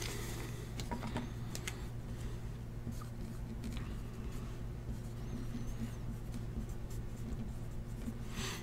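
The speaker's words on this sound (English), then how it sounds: "Let me write that down." Pen scratching on paper while pack numbers are written down by hand, faint and close, in short irregular strokes over a low steady background hum.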